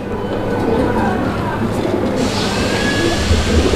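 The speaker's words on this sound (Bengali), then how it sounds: "আমরা এই মুহূর্তে দেখতে পাচ্ছি এখানে চমৎকার আরও এক জোড়া কবুতরের কালেকশন রয়েছে" Maltese pigeons in a fancy pigeon collection coo softly beneath a steady, noisy background hum that runs throughout.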